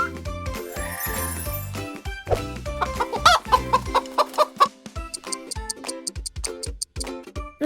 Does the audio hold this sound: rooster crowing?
yes